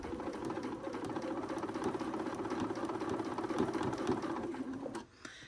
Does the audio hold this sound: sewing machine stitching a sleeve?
yes